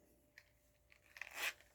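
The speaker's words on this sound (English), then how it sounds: "just taking little scissors and cutting that tape" Small scissors cut through packing tape on a closet drawer assembly, giving a few faint snips followed by a louder crunching, tearing cut near the end.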